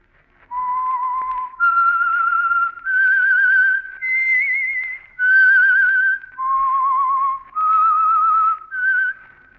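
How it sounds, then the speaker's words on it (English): A lone whistler performs the eerie theme tune of the 1948 radio mystery program The Whistler, eight clear sustained notes climbing then falling in a slow melody, loud and close with brief breaths between notes. "That whistle is your signal for the Signal Oil Program, The Whistler."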